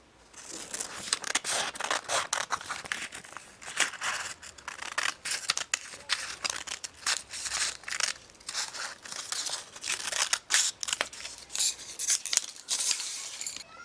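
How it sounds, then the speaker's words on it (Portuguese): Scissors snip through excess fabric while a surgical cap is made, with repeated sharp cuts in uneven bursts and soft cloth rustling between them, close and fairly clear. "agora eu vou cortar esse excesso daqui de cima"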